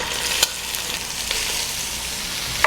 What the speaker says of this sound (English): Now that the butter's fully melted, we'll add in the veg.